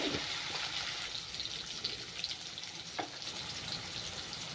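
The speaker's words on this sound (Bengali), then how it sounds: "এখনো প্রথমে আমি আলুগুলো ভেজে নেব" Potatoes frying in hot oil with a pinch of turmeric, a continuous low sizzle and hiss with a couple of faint clinks, moderately quiet and without talk.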